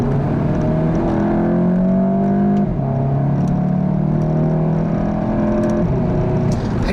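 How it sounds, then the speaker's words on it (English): Loud engine and exhaust burble of a 2015 Volkswagen GTI droning steadily as it accelerates, pitch climbing, dipping briefly at a quick DSG gear shift, then rising again. "I also love the nice burble noise that the exhaust makes."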